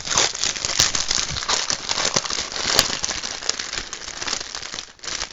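Plastic packaging from a diamond painting kit crinkles and crackles continuously close up, with irregular sharp rustles and snaps throughout and no talk.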